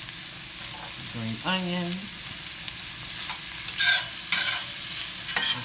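Mushrooms and green onion sauté in a hot pan for a shrimp veggie pasta, a soft steady sizzle broken by scraping stirs and clinks of a utensil, with a brief spoken word near the start.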